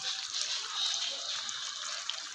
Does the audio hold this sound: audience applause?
no